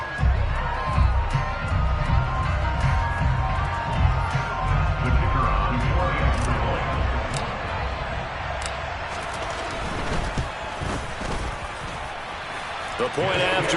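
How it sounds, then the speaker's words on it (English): Stadium crowd at an American football game shouting and murmuring steadily as fans watch a replay, a dense roar of voices with scattered louder yells, with an announcer talking over it. "Plenty of shouts from this crowd as they watch the replay."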